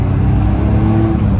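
An air-cooled Porsche 911 with a 2.7-litre, roughly 188-horsepower naturally aspirated flat-six and four-speed manual gearbox revs loudly up close, a dense, steady mechanical drone with no speech.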